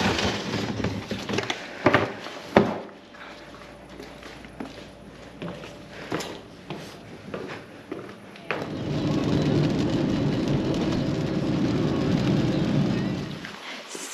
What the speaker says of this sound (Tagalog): maulan na gabi ngayon sa amin